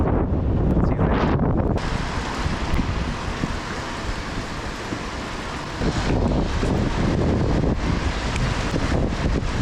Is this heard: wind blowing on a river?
yes